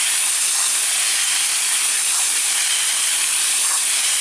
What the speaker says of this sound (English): Now that we've got the cartridge all cleaned out with a garden hose